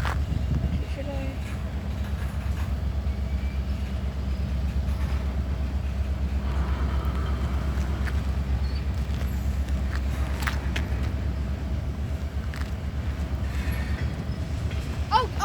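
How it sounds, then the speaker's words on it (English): Freight locomotives rumbling in a rail yard at Bowden Yard in Jacksonville, a steady low engine drone with faint clanks and rail noise throughout, with occasional talk nearby. "We got locomotives right here. I'm assuming these guys are gonna start moving."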